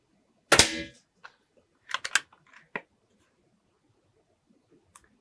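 An Air Arms X200 Vanguard PCP air rifle fires 8.4-grain Diablo Field pellets on a 25-metre indoor range, giving one sharp, close crack followed by a few softer mechanical clicks and taps in otherwise quiet surroundings.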